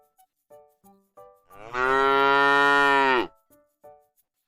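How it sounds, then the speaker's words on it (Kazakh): A cow gives one long, loud, resonant moo lasting over a second, between faint short clicks and tonal blips. "Сиырдың төлі бұзау."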